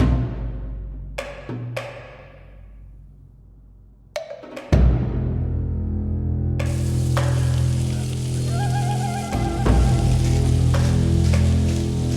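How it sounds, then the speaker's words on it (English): Yellow onion, green onion and julienne carrots pan-fried in a separate pan, a loud continuous sizzle that swells after ingredients hit the hot pan, with clanks and stirring knocks, no talking. "we're going to pan fry the yellow onion, the green onion, and the julienne carrots in a separate pan"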